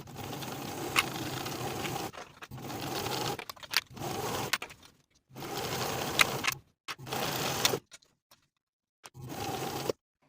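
A sewing machine stitches dress facings on an evening dress in several bursts of steady whirring, each stopping abruptly, with short quiet gaps between runs, close and fairly loud.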